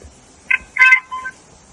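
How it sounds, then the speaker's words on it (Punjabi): A phone rings with a brief burst of bright electronic tones, a few short chirps within about a second, fairly clear against a quiet background. "ਮੈਂ ਸੱਚੂ ਸਰ ਦਾ ਫੋਨ ਆਇਆ"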